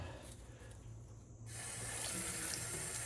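Water runs from a tap over a grimy Edison Diamond Disc record during cleaning, a soft steady flow that swells into a fuller, louder gush partway through, with no talk.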